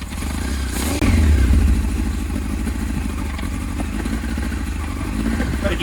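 Honda CBR 900 Fireblade motorcycle engine idling while misfiring on three cylinders, a steady low rumble with a louder burst as it catches, running close by with no talk.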